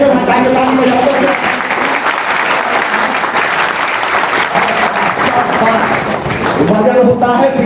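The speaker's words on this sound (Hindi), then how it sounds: "एक बार साइलेंसर हटाएंगे, ताली बजाते हैं।" An audience at an award ceremony for selected candidates claps hands in dense, sustained applause, loud and continuous from start to finish, with voices mixed in beneath.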